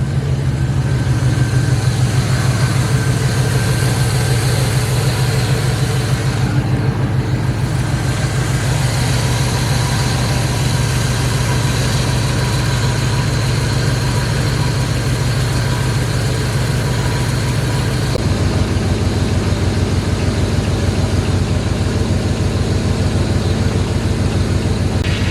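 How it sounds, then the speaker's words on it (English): A Chevrolet Suburban engine idles steadily, a deep continuous rumble holding close and loud throughout with a slight shift in tone near the end. "this thing's been sitting there idling"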